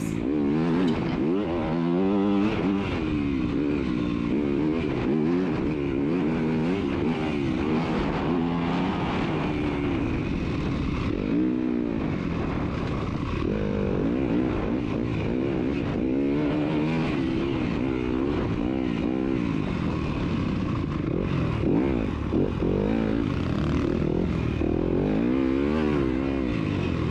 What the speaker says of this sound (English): I'll just continue to rev up my engine